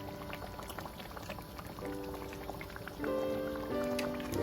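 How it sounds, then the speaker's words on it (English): Thick palm butter sauce bubbles on the stove, a soft steady bubbling and popping with faint tonal sounds in the background. "You can see it bubbling."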